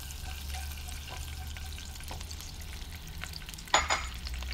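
Crushed garlic sautéing in hot oil in a pan makes a soft, continuous sizzle with light stirring clicks, and a sudden louder burst of hiss near the end, with no voices.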